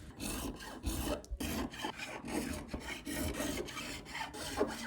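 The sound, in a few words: leveling vintage guitar frets with a file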